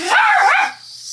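A dog named Duke lets out a single loud, close whining bark that rises and then trails off, alone with no talking over it.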